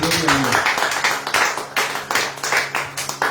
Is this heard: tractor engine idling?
no